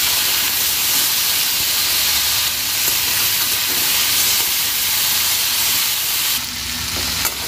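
Potatoes with panch phoron five-spice fry lightly in oil, a loud, continuous close sizzle with stirring that shifts slightly near the end.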